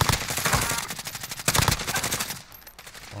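Rapid automatic gunfire in Call of Duty: Warzone crackles in close, loud repeated bursts, then drops away to quieter background noise near the end.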